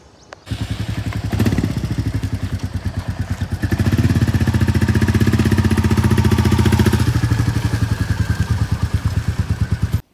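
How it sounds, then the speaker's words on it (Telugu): A large motorcycle rides through Hyderabad streets, its engine a loud, close, steady rapid throb that swells as it accelerates mid-ride, then settles back before cutting off. "అన్న ఆరి బైక్ తీసుకెళ్తున్నా"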